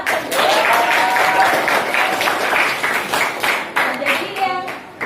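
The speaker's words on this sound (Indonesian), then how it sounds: "beri aplaus kelompok 2." A classroom of students applauds a presenting group after a lesson on bacteria, dense clapping sustained for several seconds before thinning out, with a few voices calling out over it.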